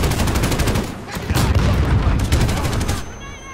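Sustained PKM light machine gun fire in a video game, loud and dense rapid bursts running nearly continuously before tapering off at the end.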